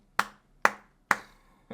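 Three crisp, evenly spaced hand claps sound close and alone, with a fourth just starting at the end.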